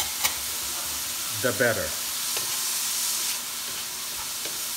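Garlic sizzles in a hot pan with red onions, a continuous soft frying hiss with a brief stir and a few words of speech early on.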